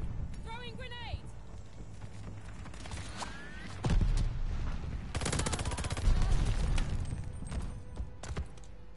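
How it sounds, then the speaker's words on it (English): Gunfire and a grenade blast from the Call of Duty: Vanguard video game: loud bursts of shots and a heavy explosion crash near the middle, with a voice speaking briefly at the start. "Throwing grenade."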